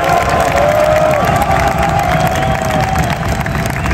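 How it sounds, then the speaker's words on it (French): Large arena crowd at a UFC Paris event at Accor Arena cheering and applauding, a dense continuous roar that stays loud throughout, with a voice faintly carried over it. "on peut l'applaudir encore une fois, s'il vous plaît"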